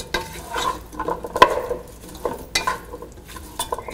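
Potatoes coated in masala are stirred in a pan for aloo gobi, a spoon scraping and clacking against the metal in several uneven strokes over a light sizzle, close and fairly loud.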